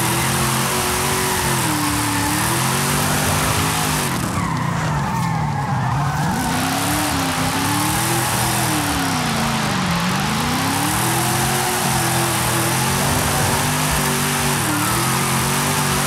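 A car drifts in the racing game Forza Horizon 5, its engine droning and wavering in pitch with sustained tire skid and squeal throughout, loud and steady with no talk.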